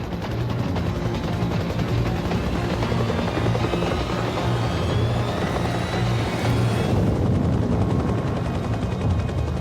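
Helicopter rotor thudding steadily and loud throughout, a military airlift of a suspect to Camp Bastion in Afghanistan, with engine whine and a continuous rumbling wash.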